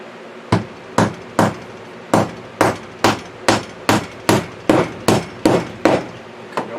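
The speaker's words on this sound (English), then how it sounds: "Alright, give me my hammer, please." A hammer fixes pegboard to a wall in an off-grid workshop, about fourteen sharp, loud strikes at a steady, even pace, close by and with no voices between blows.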